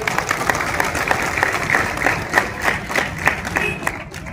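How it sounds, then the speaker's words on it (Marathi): An audience applauds a police band at a police Raising Day event in Kankavli, Sindhudurg, with steady crowd clapping that stays loud and dense throughout. "त्यांच्यासाठी सर्वांनी एकदा टाळ्या वाजवाव्यात"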